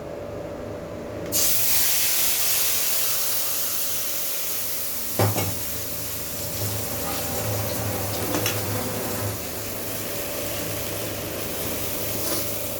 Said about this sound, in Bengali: তেলটা আমার গরম হয়ে গিয়েছে, গ্যাসটা সিম করে আমি ফাটানোর টক দইটা ঢেলে দেব